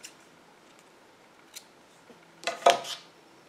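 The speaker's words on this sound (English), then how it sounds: "then cut the previous colored yarn" Scissors snip through crochet yarn in a few quick, close cuts, a brief cluster of sharp clicks and a crisp slicing rustle after near silence.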